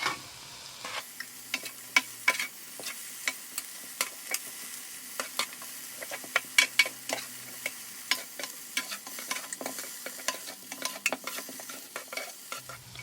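Singapore chicken fried noodles are stirred in a multicooker, with repeated sharp scraping clicks of a utensil against the pot over a soft, steady sizzle, fairly close and with no talking.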